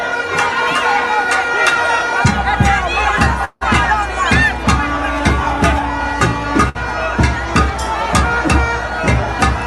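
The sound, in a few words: crowd shouting around the Prime Minister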